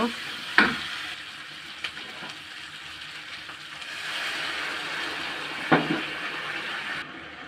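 Small puti fish curry with taro sizzles steadily in a wok while being stirred, with a continuous close frying hiss and a few sharp scrapes and clinks of the spoon against the pan.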